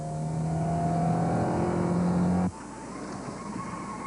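James Hunt's race car slides around a corner, its engine note a loud, rising tonal whine with strong harmonics that cuts off abruptly near the end, leaving a softer, rougher engine sound as the car carries on.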